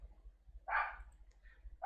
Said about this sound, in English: Definitely barking either on a cat or another dog outside our house.